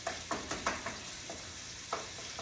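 Ground beef browning for shepherd's pie, sizzling in a pan while a utensil scrapes and stirs it in quick uneven strokes, a close crackle with sharp taps and no talking.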